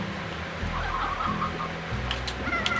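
Hens cluck repeatedly in the video game Slime Rancher, with short bright clucks over a steady low in-game music bed and no talking.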